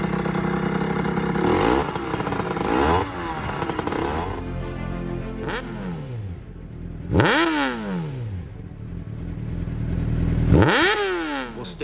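A toy device fakes a motorcycle engine for an Aprilia RS4 50cc racing bike, giving loud, close, synthetic revs that rise and fall in several separate bursts.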